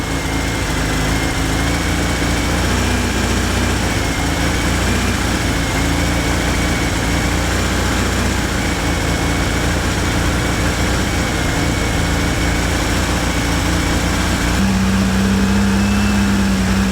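A Fiat Panda 4x4 engine idles after a timing belt and water pump change, a steady even drone held for the whole stretch, close up, with a slight shift in tone near the end.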